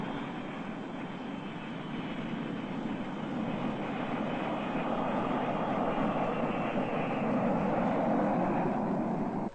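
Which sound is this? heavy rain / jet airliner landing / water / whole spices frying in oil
jet airliner landing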